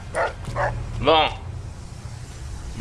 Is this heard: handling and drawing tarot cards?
no